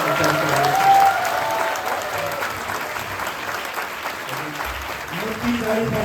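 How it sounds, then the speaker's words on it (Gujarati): A church congregation in Maninagar bursts into loud, sustained applause after a gold chain and cross are presented, while voices carry over the clapping. "મોટી તાળી પાડીને ઈશ્વરનો આભાર માનીએ"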